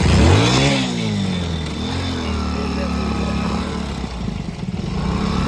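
A motorcycle engine that has taken in water revs up loudly, then settles into a steady, sputtering idle close by.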